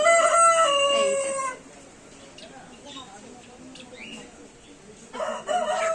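Roosters and other fowl of many breeds at a small zoo in Natore's Green Valley Park, with a loud crowing call at the start and another at the end and a quieter gap with faint background activity between them.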